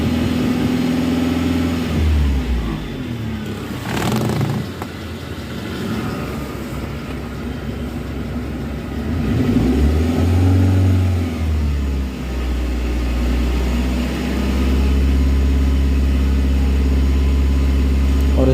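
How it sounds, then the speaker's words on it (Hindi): A car engine revs up and settles back in repeated swells, loud and close, during an HO2 sensor test on a car with no catalytic converter fitted. "तो चलिए पहले इंजन को फिर से रेस करते हैं।"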